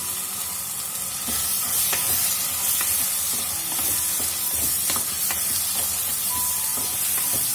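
Cleaned prawns go into a hot pan for a spicy village-style prawn and okra curry, giving a loud, steady sizzle and hiss with scattered spatter pops and faint stirring scrapes throughout, with no talking.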